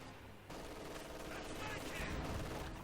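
MG 42 heavy machine gun from Company of Heroes 2 firing in a dense, continuous rattle amid battle noise, fairly quiet overall.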